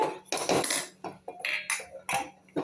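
Metal spoon scraping and clinking against a pot while amaranth greens kadayal is stirred and mashed, in short irregular strokes with small clinks, close and fairly quiet.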